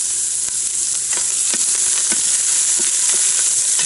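Onions frying in a pan, a steady loud sizzle with soft crackles and occasional stirring scrapes, alone with no talk.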